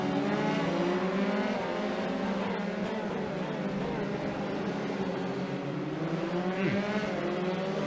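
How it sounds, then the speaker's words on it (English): Formula 3 race cars in the iRacing sim racing game at Circuit Gilles-Villeneuve, a steady, dense engine drone from several cars running together with no break, loud and continuous throughout. "Webb still got a little bit of fight left in that car, but Jerome's going to get it"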